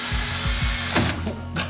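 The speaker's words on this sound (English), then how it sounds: "Now we just screw our solar panels in." Solar panels being screwed onto a crossbar on a Promaster van roof, with a mechanical ratcheting, whirring driver sound and low thumps over about two seconds, close and fairly loud.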